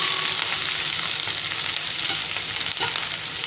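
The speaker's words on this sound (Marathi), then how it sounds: "त्यात आता आलं लसूण पेस्ट घालूया। ते छान भाजली की त्याच्यामध्ये कढीपत्ता घालूया।" Ginger garlic paste frying in a pan for a potato and cauliflower bhaji, giving a steady, loud, close sizzle with light stirring throughout and no talk.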